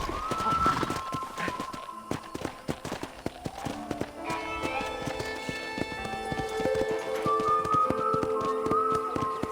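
Horse hooves clip-clopping on a ranch in Red Dead Redemption, a steady rhythmic trot running throughout with in-game music tones and ambient birdsong layered over it.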